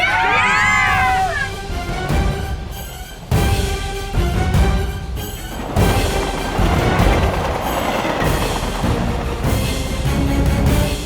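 A train rolling along the track, a loud continuous rumble with clattering wheels and a high squeal at the start, close and steady throughout.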